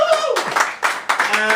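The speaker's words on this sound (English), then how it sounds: "give yourselves a big warm round of applause" A queer pride week fundraiser audience bursts into clapping and cheering in a few swelling waves, with whoops and voices riding over the applause.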